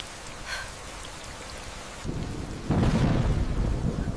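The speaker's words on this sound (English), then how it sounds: "I knew I had only minutes before the storm hit full force" Thunderstorm with heavy rain beating on a camping tent at night in a wet campsite, a distant rumble early on, then the rain swelling into a loud, dense roar that grows stronger after two seconds, with no voices.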